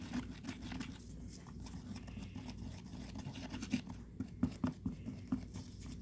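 Resin mixture being stirred briskly in a cup for a grinder mold pour, a close scraping, swishing patter with a steady rhythm and a few sharper taps against the cup's sides toward the end.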